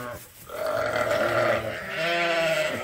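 Sheep bleat loudly and close by on a farm, a couple of wavering, nasal calls in quick succession.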